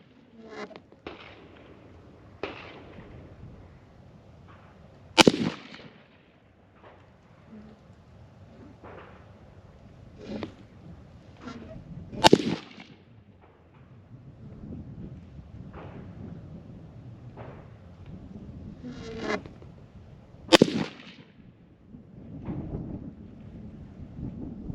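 Three loud, sharp rifle reports from a short-barreled Desert Tech MDRX bullpup firing 69 grain ammunition at a range, spaced several seconds apart, with fainter distant shots and buzzing outdoor background between them.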